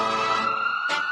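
Ambulance siren wailing in busy traffic, loud and continuous, its rising and falling tone repeating in short pulses near the end.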